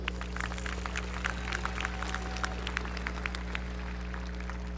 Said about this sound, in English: let's give a huge round of applause for our Board of Trustees.